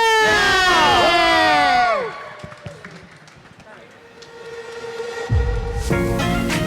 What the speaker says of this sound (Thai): ขอเสียงกรี๊ดดังๆหน่อยเลย